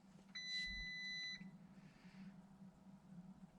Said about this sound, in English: Okay, so I got a lot of beeps going on